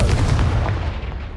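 A single heavy blast from the Confringo fire spell in Hogwarts Legacy, a loud booming explosion set off against a piled-up barricade, rumbling and then decaying over about a second.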